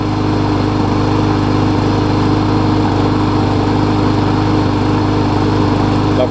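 Murray riding lawn mower fitted with a replacement engine, running at a steady loud drone throughout, close by and unbroken, with no talk.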